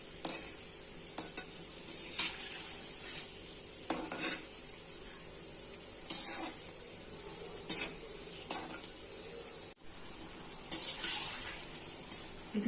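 Vada frying in oil over low heat, a faint, steady sizzle broken by repeated scraping and stirring strokes of a utensil in the pan, close by and without talk.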